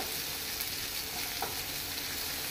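Onion and tomato frying in a pan for restaurant-style matar paneer, a steady close broadband sizzle with faint stirring, no talking.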